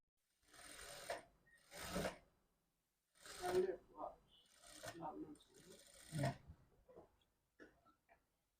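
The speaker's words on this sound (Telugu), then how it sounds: "ఇలా ఒక కుట్టు వేసేసుకున్న తర్వాత దీనిపై నుంచి ఇంకొక డబల్ స్టిచ్ అనేది వేసేసుకుందాం." A sewing machine runs a double stitch on a blouse in short separate bursts of whirring, each lasting about a second with quiet gaps between, faint and close.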